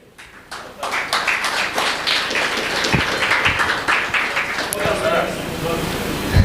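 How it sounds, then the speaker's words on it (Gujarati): Audience applause and clapping welcoming a young girl onto a stage at a public event in Surat, sustained and fairly loud throughout with a crowd murmur and occasional sharper claps. "જબરદસ્ત તાળીઓના નાદથી વધાવ્યો"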